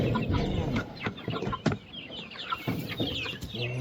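Broiler chickens cluck and chatter close by in repeated short bursts, several birds calling over one another with a steady busy rhythm while being moved to pasture.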